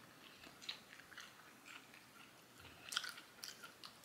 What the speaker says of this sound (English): Chewing it is even satisfying. Like, it feels good to chew.